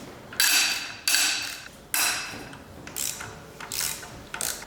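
Ratchet wrench cracking loose cylinder head bolts on a BMW M52 engine, about six sharp bursts of rapid clicking, each fading as the handle swings, recorded up close.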